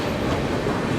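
Howrah Rajdhani Express arriving at Prayagraj station, a steady close rumble of rolling train wagons with faint wheel clatter running the whole second, no voices.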